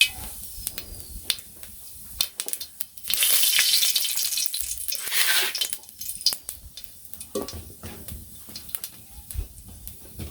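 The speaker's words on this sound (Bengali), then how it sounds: "তো যে তেল গরম হয়ে গেছে" Spices crackling in hot oil for tempering in a simple village kitchen, a broadband sizzle swelling loudly for a couple of seconds amid scattered clinks of pots and utensils, with quieter background noise before and after.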